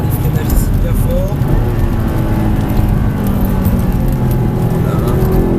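Audi R8 V8 braking hard on a race circuit, a loud steady roar of engine and road noise heard from inside the car, with a person talking over it.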